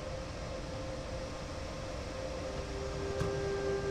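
A BR 146 electric locomotive in Train Sim World 4 pulls away, a steady low rumble and hiss of traction noise with a rising electric whine, moderately faint and without talk.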